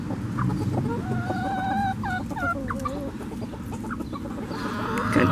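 Mixed breeds of chickens, a Silkie among them, cluck steadily inside a coop, with many overlapping calls rising and falling close by over a dense, noisy background.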